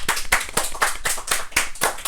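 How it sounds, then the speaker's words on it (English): A studio audience claps for a contestant on a live podcast show, with sharp, rapid hand claps coming in a steady rhythm, loud and close, and no talk over them. "Give him a round of applause, everybody."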